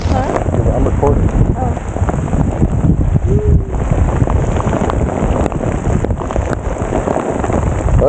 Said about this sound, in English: the raindrops are getting a little bit cold now